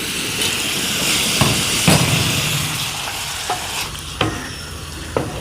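Lightly fried squid is stirred into thick masala in a pan, making a loud, continuous sizzle with repeated scraping knocks of the spoon against the metal.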